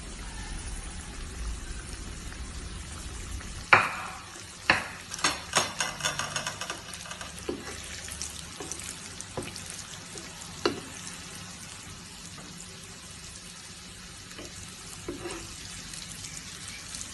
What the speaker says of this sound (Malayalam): ഇനി ഇത് നമുക്ക് എണ്ണയിൽ വറുത്തെടുക്കാം.